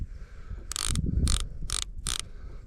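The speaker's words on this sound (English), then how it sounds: "I love to hear that bait clicker go off." Bait casting reel clicker going off while catfishing on a river: four quick bursts of rapid ratcheting clicks in a row, close and clear over low outdoor rumble.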